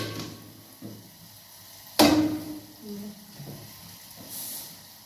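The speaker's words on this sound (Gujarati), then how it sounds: "આમાં ઘી ને દૂધનો ધાબો દીધો અડદનો લોટમાં" Hot ghee and milk hit urad flour with one sudden sharp sizzle that fades over a couple of seconds, set against a quiet kitchen background.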